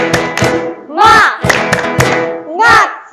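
Children and leaders at an HKBP Bojong Menteng Sunday school service perform the tepuk semangat clapping chant, sharp rhythmic group claps alternating with loud shouted chant bursts, close and energetic.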